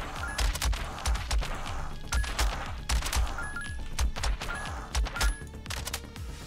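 Bursts of rapid electronic gunfire repeat every second or so in the bullet hell game Bullet Bunny, punchy and loud, with a steady game soundtrack humming underneath.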